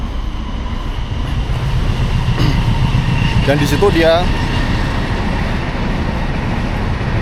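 A train sound effect of rolling railroad cars with a clickety-clack rhythm runs steadily beneath someone narrating in Indonesian, rising briefly in the middle of the stretch.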